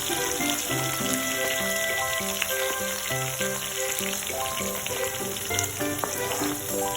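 Sliced scallions, shallots and garlic frying in hot oil in a wok, a loud continuous crackling sizzle, close, while background music plays.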